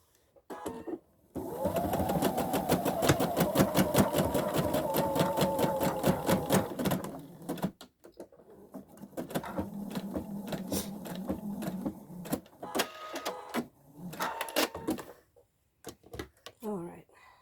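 A sewing machine runs a straight stitch to close a fabric scrunchie, a steady fast whirring rattle for about six seconds, then shorter bursts of stitching with pauses and faint handling sounds.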